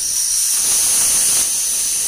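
A pressure cooker cooking jackfruit seeds for a Kasaragod-style curry lets out a loud, continuous steamy hiss that fills the short stretch, nearby and alone.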